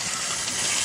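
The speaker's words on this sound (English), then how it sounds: "water's coming out that one over there, and it is coming out this one here" Water gushing steadily out of the open holes in a boat trailer's cross members after they were filled from a hose, a continuous close splashing rush with no talk.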